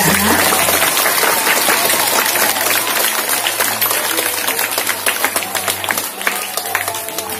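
A crowd of pupils and teachers at a Monday school assembly in Malang applauding visiting police officers, sustained dense clapping that carries on for several seconds and tapers slightly.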